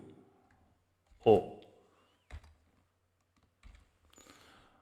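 Someone types H2O on a computer keyboard while working in PowerPoint, producing a few sparse, distinct key clicks separated by quiet gaps.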